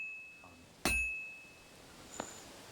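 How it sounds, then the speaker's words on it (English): A single ringing metallic clang of a hammer striking a horseshoe in Kingdom Come: Deliverance II rings out sharply and decays, followed by a fainter second ping. The hits are sparse and sound alone against quiet background. "Hans is gonna die because I can't hit a freaking horseshoe with a hammer"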